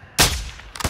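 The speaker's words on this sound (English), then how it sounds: "He's shooting at us." Two bursts of gunfire in a combat game: one loud, sharp shot followed by a short, rapid cluster of quieter cracks, with no voices.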